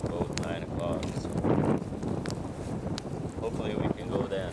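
Gusty outdoor wind roars and buffets the microphone in steady rough waves, loud and close, and people's voices come through faintly beneath it.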